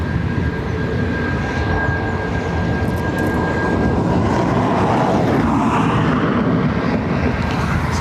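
Air France jet departing Dublin Airport for Charles de Gaulle, a sustained broad engine roar that swells slightly partway through, heard from a distance with a faint steady whine and no talk.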